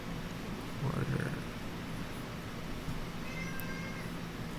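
A house cat lets out a single meow, moderately close and fairly quiet, over a low steady room hum with no one talking.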